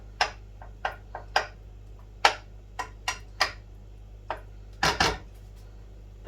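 Lardons sizzling and being broken apart in a pan for coq au vin, heard as a series of sharp, irregular clicks and clatters of a utensil against the pan over a faint low hum, no talk.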